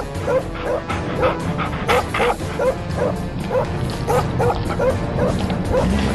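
A cartoon dog barks and yips in a fast, rhythmic string while chasing someone, loud and close, with whimpering tones between the barks.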